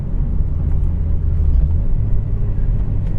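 Honda Civic Type R FD2 engine heard from inside while driving, a steady low rumbling drone with road noise, even and continuous at moderate cruising revs.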